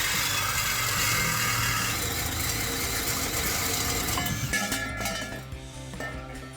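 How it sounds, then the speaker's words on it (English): A Sawzall reciprocating saw with a bimetal blade cuts through the exhaust pipe of a 1999-2004 Mustang GT, a loud, close, rapid buzzing rasp that runs steadily, then eases off and fades near the end. "I'm just using a standard Sawzall with a bimetal bit. So I'm going to start cutting here."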